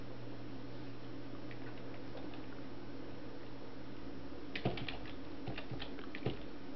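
Soft, scattered keystrokes tap on a computer keyboard, faint under a steady hum of background noise, with a brief flurry of clicks toward the end.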